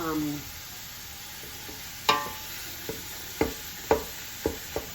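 Ground beef sizzles steadily in a pan for cabbage and beef soup, with a run of sharp scraping clicks as a utensil breaks the meat into smaller pieces.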